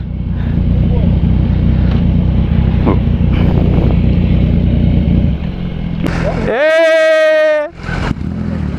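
A Yamaha MT-09 motorcycle engine rumbles steadily up close, then revs sharply into a rising, climbing whine for about a second during a wheelie, with clutch play before dropping back to a lower drone.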